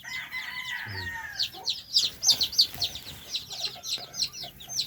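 Young chicks at a feeder of chick booster feed, with rapid, high cheeping and clucking close by in quick repeated bursts over faint background noise.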